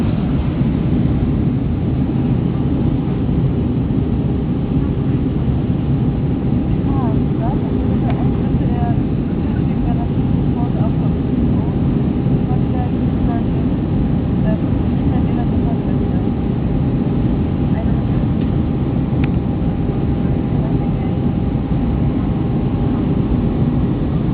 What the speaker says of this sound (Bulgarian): Да кацаме и ето го градът Дюзелдорф.